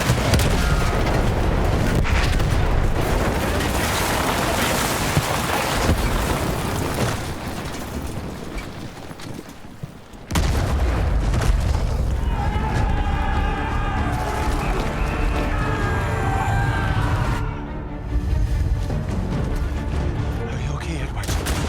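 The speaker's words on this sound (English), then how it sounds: "Artillery!" Battlefield 1 artillery fire and explosions boom heavily in a World War I battle, deep rumbling blasts and gunfire filling the scene, with shouting voices heard among the chaos.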